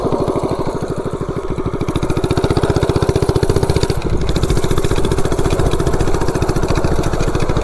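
A homemade mini bike engine runs after a restart, a loud, close, steady putter of rapid, evenly spaced firing pulses that holds for several seconds with a brief stumble midway.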